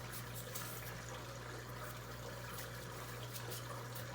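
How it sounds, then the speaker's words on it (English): Tap water runs steadily into a sink while apples are washed, a continuous even splashing rush with a low hum beneath and no talking. "I always wash mine in the sink really well."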